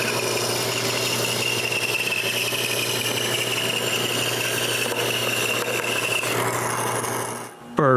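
Hand tool rasping away maple wood on a homemade wooden bandsaw frame, a steady continuous scraping with a low hum beneath, running nearly eight seconds before stopping abruptly.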